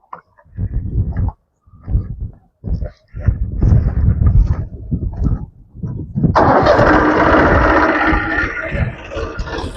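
A Massey Ferguson 7250 DI tractor fitted with a rotavator cranks and fires up loudly nearby, then settles into a steady roar after several bursts of conversation.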